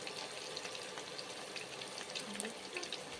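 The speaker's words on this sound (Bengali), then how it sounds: "মাছগুলো ভেজে নিচ্ছি।" Bhetki fish pieces fry in a pan of hot oil, giving a steady, dense sizzle that runs without a break, with a faint clink partway through.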